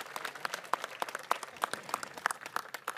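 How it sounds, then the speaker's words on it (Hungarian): Applause from a gathered crowd at the outdoor unveiling of a Satoshi Nakamoto statue, honoring the sculptors: moderate, fairly sparse clapping with distinct individual claps popping out over about three seconds. "Put your hands together for our sculptures"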